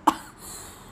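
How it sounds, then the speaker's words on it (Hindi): A single sharp cough right at the start, close and fairly loud, followed by quiet room noise. "मुझे ना खांसी बहुत हो रही है इस टाइम भी"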